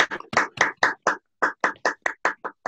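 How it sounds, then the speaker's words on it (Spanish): A few people clap for the speakers at the end of a virtual young ophthalmologists' session, about a dozen separate, fairly close hand claps with short gaps and a pause midway, no voices over them. "un aplauso para los ponentes"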